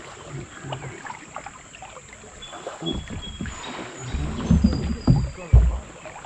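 A kayak paddle dips and pulls through the current of the Tuscarawas River, giving close splashes and swishes with low water rumble and some wind noise. Splashes grow stronger toward the end.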